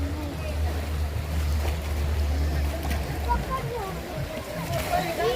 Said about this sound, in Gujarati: અહીંયા છે ને બોટિંગ પણ થાય છે.